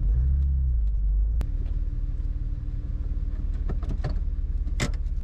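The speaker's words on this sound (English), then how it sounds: "You hear all that knocking and rattling and stuff?" A Porsche 911 engine idles close by with a steady low rumble, punctuated by sharp knocks and metallic rattles that grow busier toward the end.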